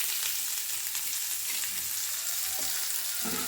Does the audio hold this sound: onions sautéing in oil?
yes